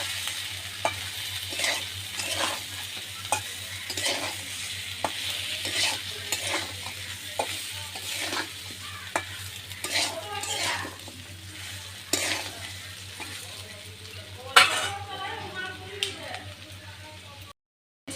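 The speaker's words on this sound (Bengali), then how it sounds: "এবার দিয়ে দেবো ভেজে রাখা আলু আর সজনে ডাঁটা। এই সবজির সাথে আবারও মশলাগুলো একটু ভালো করে কষিয়ে নেব।" Fried potatoes and drumstick pieces sauté with spices in a pan, a continuous sizzle under repeated sharp spatula taps and scrapes in an uneven rhythm, close by, with a steady low hum underneath.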